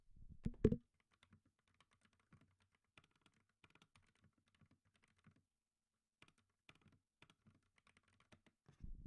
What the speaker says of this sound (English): Can you guys hear my keyboard when I'm typing?